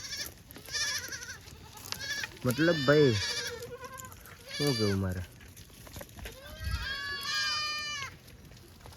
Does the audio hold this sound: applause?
no